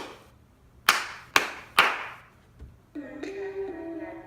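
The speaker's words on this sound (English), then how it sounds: "all the background drum set kind of things, like the hand clap" Three sharp, evenly spaced hand claps from a song's drum track ring out loud and crisp, each with a short decaying tail, followed by a sustained tonal synth passage.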